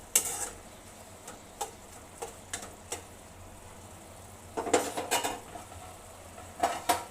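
Spoon scraping and clinking against a pan while chicken pieces cook with salt, chilli and turmeric, with intermittent metallic taps and stirring scrapes in bursts and a faint sizzle underneath.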